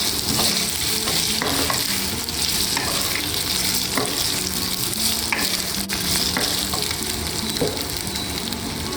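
Potatoes frying in a pan for an Indian paneer and potato curry, a steady close sizzle with occasional scraping stirs running continuously throughout, no talking.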